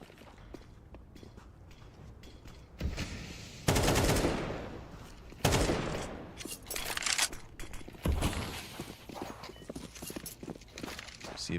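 Pistol gunfire during a competitive Counter-Strike-style match between Spirit and G2, with sharp bursts of shots and loud clusters of reports breaking through quieter background clatter and footsteps.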